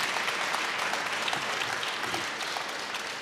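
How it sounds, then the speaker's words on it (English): Audience applause at an open house presentation: a dense, even burst of many people clapping, sustained and fairly loud for a few seconds. "Give him another great big round of applause."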